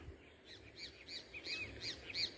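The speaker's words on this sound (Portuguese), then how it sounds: "Olha a zoada dos pássaros cantando" Small birds chirp by the Paraíba River in Viçosa, Alagoas, in a quick series of high, bright tweets, repeating every fraction of a second against a quiet, faintly hissing background.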